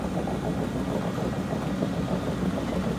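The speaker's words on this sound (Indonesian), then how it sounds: "ini mesin yang digunakan untuk chipping ataupun untuk cincang pokok lah, menggunakan excavator jenis skate" Excavator-mounted tree chipping machine on an oil palm replanting plantation runs with a steady, close diesel engine drone, a continuous low rumble without pauses or voices.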